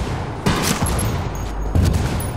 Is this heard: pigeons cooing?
no